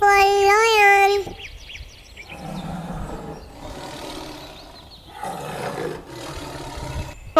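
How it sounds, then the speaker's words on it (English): A lion roars in one long, loud, rumbling call that fills the clip, beginning with a brief higher tonal cry. "L for lion."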